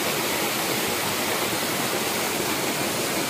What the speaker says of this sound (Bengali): পাহাড়ের ওপর থেকে ফুল ফুটে জল পড়ছে নিচে